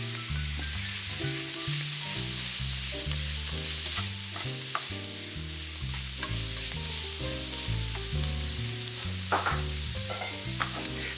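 Tomatoes and spinach sizzling in a frying pan while being stirred, a loud steady hiss of frying under scraping and shuffling stirring sounds, close throughout, with no talking.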